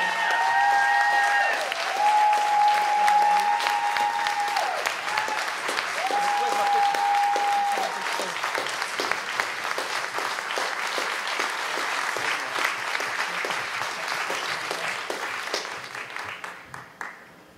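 A gala audience applauds an award recipient with long, sustained clapping and light cheering, sharp individual claps standing out as it carries on, while music plays through the first half and the clapping tapers off at the end.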